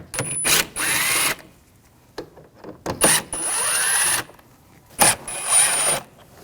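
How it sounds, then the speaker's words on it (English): A power tool fitted with a T25 socket spins screws out of a 2006-2009 Audi S4 4.2L V8 engine bay in several loud, close whirring bursts separated by brief pauses and small clicks. "Now I'm going to take these screws out, use a T25 socket."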